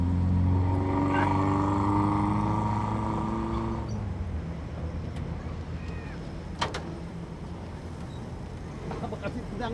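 Old oplet minibus engine idling and running at steady low rumble, with a voice speaking over it early on, then continuous motor drone with a few clicks and knocks.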